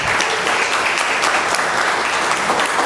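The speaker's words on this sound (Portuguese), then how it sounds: "Palmas para Ismael." Applause from an audience for a speaker at a talk on animation, steady dense clapping throughout with no speech.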